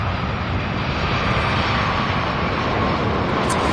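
A jet airliner arriving from Boston at Louisville airport produces a loud, steady broadband engine roar with a faint whine, continuous for the whole stretch and heard alone without talk.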